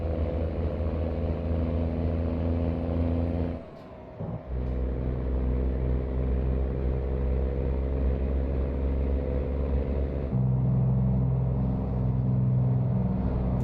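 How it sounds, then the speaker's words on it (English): Inside a truck cab in American Truck Simulator with the windows rolled up, a steady low engine rumble drones on, briefly dipping near the start before resuming and swelling slightly louder toward the end. "And this is what the truck sounds like with the windows rolled up."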